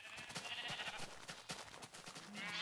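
Sheep bleating in Minecraft, faint and rhythmic game sounds with repeated short bleats under a low steady background, no talking.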